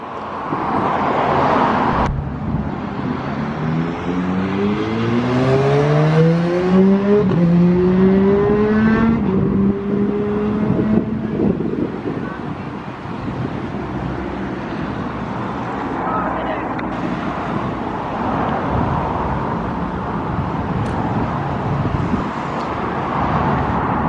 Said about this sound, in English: Hopefully you can hear the trucks as well.